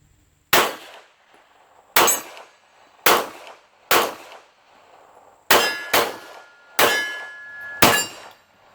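Grand Power Q100 pistol fired at angled steel targets some distance away: eight sharp shots, each with a bright metallic ring, the first four evenly spaced and the last four quicker, with no talking.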